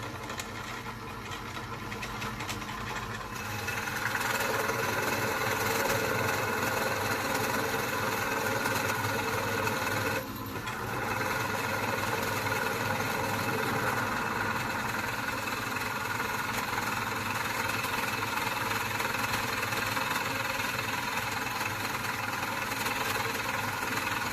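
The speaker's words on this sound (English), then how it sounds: "as soon as we drill this hole and route this out" A power tool drilling and routing out a handmade custom guitar body, starting with a low hum and then a loud steady whine that briefly drops out near the middle before resuming, close and without talk.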